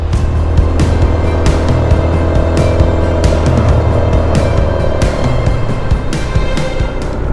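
A Honda Forza 350 scooter engine drones steadily while climbing a mountain road to Doi Mae U Kho in Mae Hong Son, loud and close, mixed with constant wind buffeting and a few sharp knocks.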